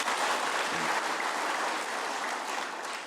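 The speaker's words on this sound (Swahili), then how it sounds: "Mjipigie makofi tena." Sustained applause from an audience of local leaders meeting the President at State House, Nairobi, a steady dense wash of clapping that holds at an even level throughout and tails off only slightly at the end.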